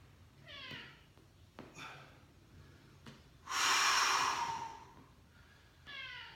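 A cat meows in short harmonic calls near the start and again at the end, with a loud breathy snort or hiss in between, all close by in a quiet room.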